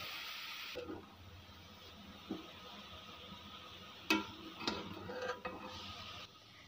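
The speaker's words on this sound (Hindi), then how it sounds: "घी मेल्ट हो चुका है, अब कद्दूकश की हुई गाजर इसके अंदर डाल रहे हैं।" Grated carrots frying in melted ghee, a faint, low sizzle with occasional scraping and stirring clinks from a pan, quiet and steady throughout.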